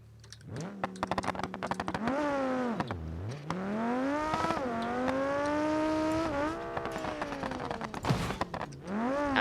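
Customized car driven in the BeamNG Drive video game, its engine revving up and down through repeated rising and falling pitch sweeps with brief dips between, loud and continuous, no talk.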